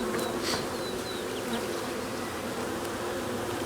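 Honeybees at production beehives fill the air with a steady, dense buzz, close and continuous, with individual bees passing nearby in brief whining sweeps.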